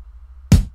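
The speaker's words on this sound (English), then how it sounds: "We start off with the kick right here," A single deep acoustic kick drum hit from an indie pop rock drum pattern lands after a brief near-silence, punchy and close, decaying quickly.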